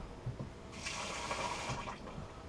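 Water poured into a fish paste mix of oio with carrots, celery, onions and Portuguese sausage: a steady splashing pour of about a second and a half, close and fairly soft, with no talking.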